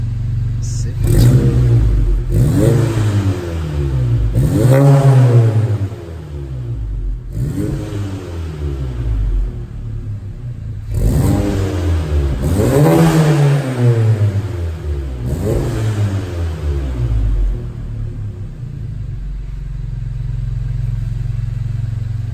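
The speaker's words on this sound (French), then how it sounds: "Les sonorités de cette Golf 7 GTI préparation Mitec, c'est parti." A Mitec-tuned Golf 7 GTI engine revs hard in repeated bursts, each climbing and falling back to a loud, rumbling idle, about five pulls in all, close by.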